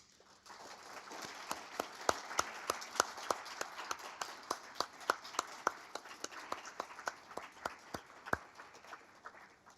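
Sparse, uneven hand clapping from an audience honoring award recipients at a ceremony, individual claps distinct and fairly close, a modest round rather than a full ovation.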